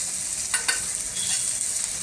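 Onions frying in a pan with ginger paste being added, for a homemade spinach and paneer curry; a steady close sizzle with a couple of brief stirring scrapes, no voices.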